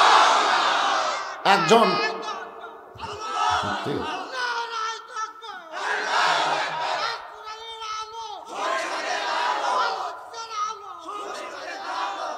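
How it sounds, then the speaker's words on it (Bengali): A large religious gathering answers a preacher with loud, rhythmic takbir chants, several surging crowd shouts in a row, with the preacher's voice between them. "ওনারা যেভাবে তাকবীর দিল, আপনারা সবাই দিলেন"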